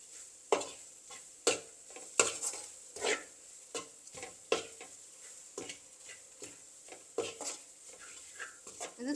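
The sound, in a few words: stirring dried baby prawn sambol in a pan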